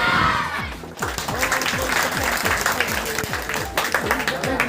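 Schoolchildren at a National Science Day celebration give a short shout, then break into loud, rhythmic unison clapping that continues steadily, with crowd noise mixed in.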